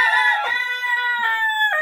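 A rooster crows loudly and close by inside a coop with its hens on a village farm in the morning, one long rising crow followed by a second starting near the end, with no talk.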